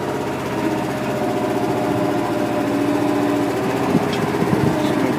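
A Harbor Freight trencher's 9 HP engine idles close by, a steady, even putter with a fast mechanical rhythm and a few light clanks near the end.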